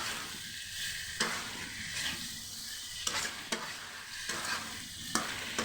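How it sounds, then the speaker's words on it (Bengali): Boiled bananas sizzle in hot spiced oil in a pan, a steady frying hiss broken every second or so by the scrape and clack of a spoon stirring, close and without talk. "এখন ভালোভাবে নেড়ে চেড়ে কষিয়ে নেব।"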